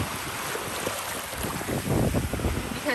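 Choppy surf churns and splashes along a shoreline as the tide comes in, a steady close wash of water mixed with wind buffeting the microphone.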